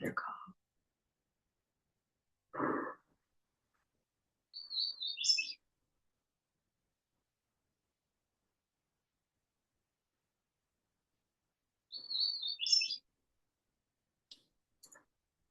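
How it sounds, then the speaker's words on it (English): Hooded warbler song in deep woods, two clear, bright, whistled phrases rising to an emphatic ending, heard several seconds apart in quiet surroundings, with brief low human voice sounds between. "I love their call. Let's get their call."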